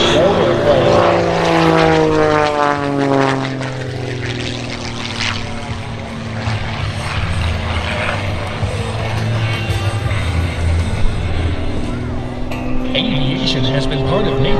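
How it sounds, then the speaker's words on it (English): A 1956 de Havilland DHC-1 propeller trainer flies low-level aerobatics at an airshow, its engine drone sweeping up and down in pitch as it passes, with a voice talking over it throughout. "flying this 1956 de Havilland DHC-1, designed originally as a trainer for the Royal Canadian Air Force"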